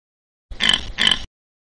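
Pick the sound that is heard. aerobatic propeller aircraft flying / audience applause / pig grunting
pig grunting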